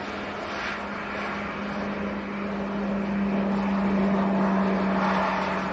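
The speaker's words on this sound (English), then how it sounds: "this little PC-12 going out to Munich in Germany" A small Pilatus PC-12 turboprop leaving Manchester Airport for Munich hums with a steady propeller drone that grows slightly louder over several seconds, set against a distant background, with no talking.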